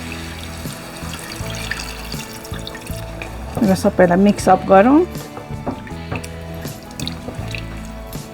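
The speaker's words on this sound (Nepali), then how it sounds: "अब आफूले कतिको ग्रेभी खाने हो त्यो अनुसारको पानी राखौँ" Water is poured into a pan of drumstick (sajiwan) curry to make gravy, a short, close splashing pour with trickling, while a voice talks over it.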